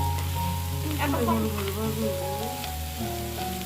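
Fresh mushrooms frying dry in a pan with little water left, a steady close sizzle with crackling bursts and stirring scrapes, no talking.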